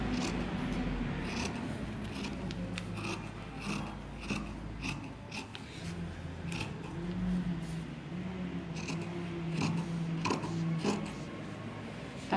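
Scissors snip steadily through fabric while a girl's panty is cut out for sewing, trimming one centimetre at the top edge; repeated close, crisp cuts with soft rustling between them and no talk.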